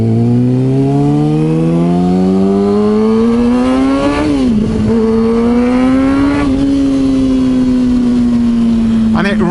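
A Kawasaki ZX6R motorcycle engine revs loudly and close, its pitch climbing smoothly, dipping and then rising again in several free-revving sweeps, with a brief sharp blip at the end.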